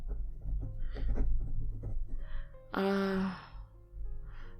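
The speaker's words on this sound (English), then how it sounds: "let me write that down" A pen scratches across a paper form in short, soft, close strokes that come in small bursts, with a brief breathy vocal sound in the middle.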